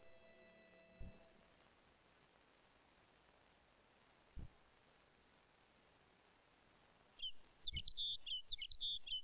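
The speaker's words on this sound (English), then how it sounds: "There are some songbirds here, like the Lapland longspur." Lapland longspur songbirds call on the Arctic tundra: a quick burst of thin, high chirps near the end follows a long, faint, hissy quiet broken by a couple of soft thumps.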